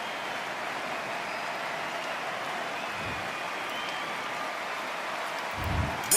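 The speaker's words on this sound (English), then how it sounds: "You can hear the noise, you can hear the fans." Capacity crowd of fans filling an arena before the opening bell of a boxing match in the video game Undisputed, a steady broad roar held at a constant level throughout, with a brief swell near the end.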